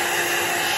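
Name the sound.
hair dryer blowing on alcohol ink painting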